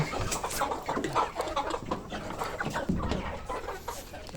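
Free-range native chickens cluck and murmur steadily inside a poultry farm coop, a busy, fairly faint flock sound with rustling throughout and no clear talk.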